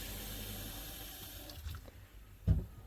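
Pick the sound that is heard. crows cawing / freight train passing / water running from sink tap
water running from sink tap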